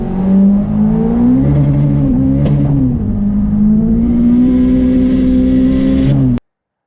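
The Camp Dog car runs without nitrous, its engine loud and near as it revs and accelerates with rising, wavering pitch while the tyres spin, then cuts off abruptly.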